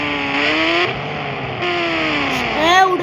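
A vehicle engine in a 3D driving video game revs with a rising and falling synthetic drone, surging twice and climbing at the end.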